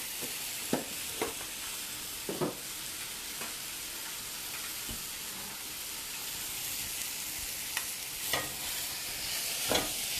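Onions frying in olive oil for chicken and vegetable fajitas, a steady soft sizzle and hiss with occasional sharp stirring scrapes and clicks from the pan, fairly close and without talk.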